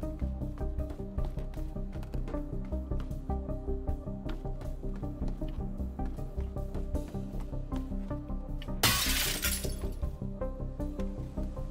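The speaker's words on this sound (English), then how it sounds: "Broken glass." Glass shatters in the destruction game Teardown: one sharp, bright crash bursts out briefly near the end over a steady, busy bed of game music and rhythmic background sounds.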